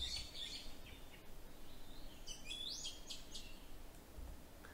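Faint, distant Taiwan thrush calling in mountain forest on Taiwan, a few thin high whistled phrases spaced through a steady low background hiss, no voices.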